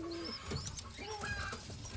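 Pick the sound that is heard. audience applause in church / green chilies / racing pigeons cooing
racing pigeons cooing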